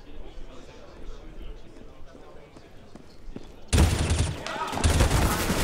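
Gunfire in Counter-Strike on the de_overpass map at a professional esports final: faint distant shots under a caster's voice, then a sudden loud burst of rapid automatic fire that continues for about two seconds.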